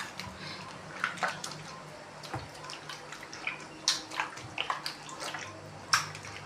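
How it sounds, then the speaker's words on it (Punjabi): Wheat flour dough being washed by hand in water in a bowl, with repeated splashing and sloshing bursts, drips and squishes at irregular intervals, close and moderately quiet, no talking. "ਬਸ ਬਦਲੀ ਪਾਣੀ ਇਹ ਡੋਲੀ ਜਾਣਾ ਤੇ ਹੋਰ ਪਾਈ ਜਾਣਾ ਇਹਦੇ ਵਿੱਚ"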